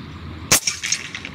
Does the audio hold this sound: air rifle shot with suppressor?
yes